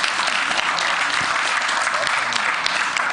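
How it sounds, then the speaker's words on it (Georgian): A television studio audience applauds, a steady, even burst of clapping that stays close and continuous for a few seconds. "ტაში არ უნდა აქ?"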